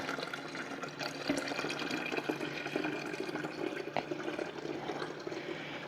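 Water is poured from a jug in a kitchen while sweet tea is being made, a steady continuous splashing pour lasting several seconds, close and moderate in level.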